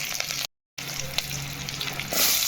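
Mustard seeds, a bay leaf, curry leaves and green chillies fry in hot oil for chicken curry, giving a loud continuous sizzle with a brief silent gap and a few crackles.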